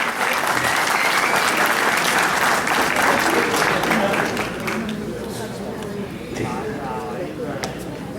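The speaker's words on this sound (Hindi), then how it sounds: "एक बहुत सारी तालियां जनाब रिजवान अली के लिए।" Audience applause for Rizwan Ali at a tribute event for Mehdi Hassan, a dense sustained clapping crowd filling the hall, loud at first and easing slightly toward the end, with some voices underneath.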